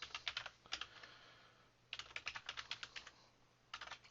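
Fingers type on a computer keyboard in quiet, faint bursts of rapid key clicks separated by short pauses.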